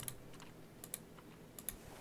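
Three sharp computer keyboard key presses of the Z key during animation keyframe work, spaced about three-quarters of a second apart, crisp and close against a quiet room hum with no voices.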